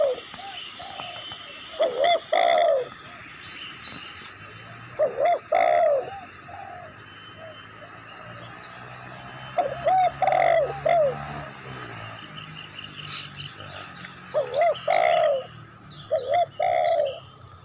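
Spotted doves (tekukur) coo in repeated three-to-four-note phrases from trees near a coconut palm during a bird hunt, the soft, hollow calls coming in clusters every few seconds over a steady insect hum.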